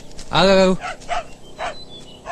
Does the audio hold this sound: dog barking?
yes